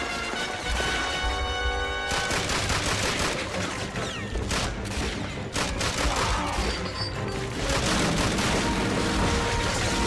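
Machine gun fire in Call of Duty Finest Hour rattles in dense, loud bursts of rapid shots mixed with crashing impacts and other battle noise, continuing throughout with no speech.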